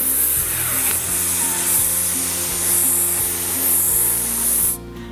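Cooking spray hisses in one long, steady, close burst lasting about four and a half seconds, then cuts off abruptly. A faint low background hum sits beneath it.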